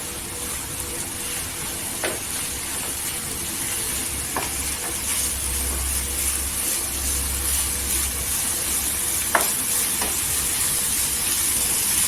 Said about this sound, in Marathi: तेलावर परतून घ्यायची अशी पूर्णपणे